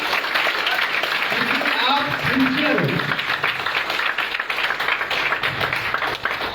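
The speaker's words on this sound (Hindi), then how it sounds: "तो सबसे पहले जोरदार ताली अपने लिए बजाइए" Sustained applause and clapping from an audience at a lecture session in Madhubani, Bihar, a steady roar of hands under a speaker's voice.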